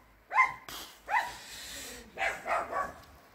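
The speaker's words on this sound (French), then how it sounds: "hey, oh les chiens." Dogs barking outdoors at night, two animals giving several sharp barks in short bursts, fairly close, with a brief pause between groups and no talk over them.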